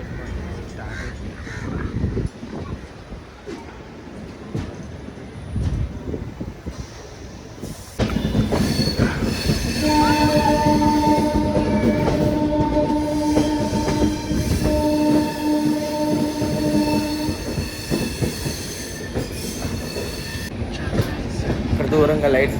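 Charminar Express 12579 passenger train running out of Chennai, a steady loud rumble of wheels on rails with squealing metallic tones through the middle section, continuous throughout with some voices faintly underneath.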